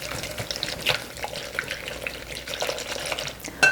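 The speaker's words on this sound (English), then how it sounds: "And we're going to stir all this together." A spoon swishes and scrapes through mini marshmallows in warm water in a bowl, a continuous watery stirring with small clinks, close and moderately loud.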